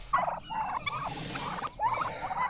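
Turkeys grazing on an open pasture, with repeated short clucking and chattering calls from several birds close by, steady over quiet outdoor ambience.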